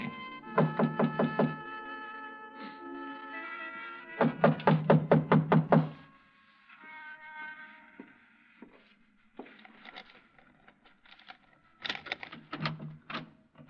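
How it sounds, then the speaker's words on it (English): Knocking on a front door in a 1956 radio drama, heard as two quick bursts of sharp raps, then a gap of quieter sounds and a final shorter burst of knocks. "I didn't think anyone would be there that late, but I knocked anyway."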